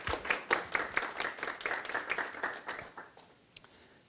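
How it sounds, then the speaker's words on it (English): Audience at an education conference session applauds a presenter: a burst of distinct, fairly close claps that thins out after about three seconds, with a few scattered last claps trailing off. "Let's give her a round of applause."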